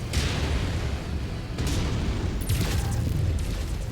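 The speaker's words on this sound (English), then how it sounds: "Enemy mech destroyed." Explosion of a destroyed mech in the MechWarrior 5: Mercenaries video game, a loud sustained rumbling boom with crackling bursts, swelling again midway and continuing under dense battle noise.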